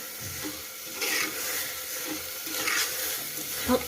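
Rice being stirred gently in hot oil in a pan over a high flame for a Bhogi thali: a steady sizzle with soft scraping strokes of the spoon rising and falling, close and moderately loud, with no one speaking.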